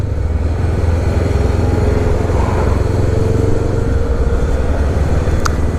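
A 2016 Honda CB500X motorcycle on a daily commute, its engine droning steadily and loudly at close range with continuous wind and road rumble.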